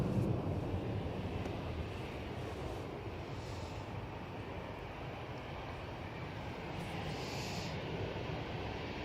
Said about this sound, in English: it is the Tui from Cancun